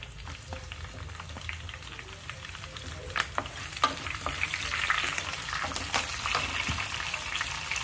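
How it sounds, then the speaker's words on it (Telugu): Green chillies fry in hot oil in a pan, a steady broad sizzle with a few sharp crackles and spatters rising slightly toward the end, close and continuous with no talk. "ఇప్పుడు ఇందులో పచ్చిమిరపకాయలు వేసుకుందామండి."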